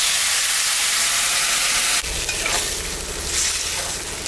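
Ginger, cumin and dried chili paste for a magur fish curry hits hot oil with a sudden loud sizzle that swells into continuous vigorous frying and stirring, close by.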